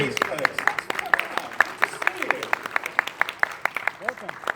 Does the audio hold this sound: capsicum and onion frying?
no